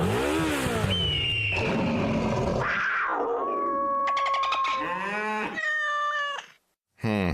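A voice imitates a motorcycle engine, rising and revving with growly tones and a wavering pitch, then cuts out briefly before one last burst.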